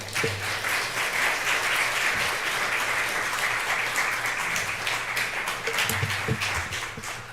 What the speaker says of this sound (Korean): 이제 목사님 나오실 때에 큰 박수로 목사님 환영하도록 하겠습니다